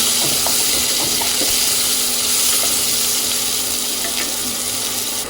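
Chopped onions sizzle and fry steadily in a hot pan for cabbage and peas, a continuous close crackling hiss with faint clicks of stirring and no voices.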